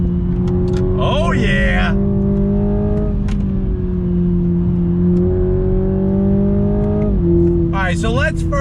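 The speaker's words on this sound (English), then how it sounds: "Definitely not as quick revving. It is much slower to go through the power band." A 2021 Toyota Supra with the 2.0 engine drones steadily from inside the cabin while driving, its revs climbing slowly through the range with a brief dip, under occasional short speech.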